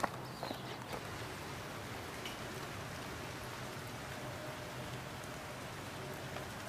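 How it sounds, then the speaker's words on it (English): Steady, fairly faint rain falls continuously with a soft, even hiss and no talking. "And the rains finally did come"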